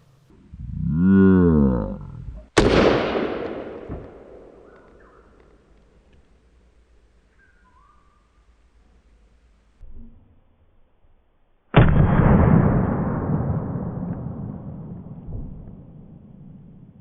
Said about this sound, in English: 22 long rifle point blank range, here we go